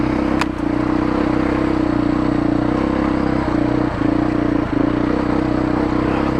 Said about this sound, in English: it's good having proper dirt tyres and a dirt bike